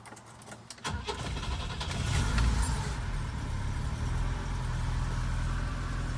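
A 1974 BMW 2002tii cold-starts with a brief cranking burst, then catches and settles into a loud, steady idle close by, with no talk.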